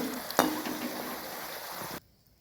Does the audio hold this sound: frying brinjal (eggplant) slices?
yes